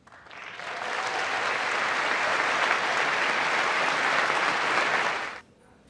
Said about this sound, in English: Republicans stood repeatedly clapping and cheering.